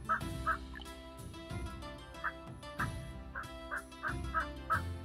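Turkeys gobble repeatedly in the city-builder game Settlement Survival, a run of bursty, warbling calls spread through the stretch over a steady game soundtrack, with no talking.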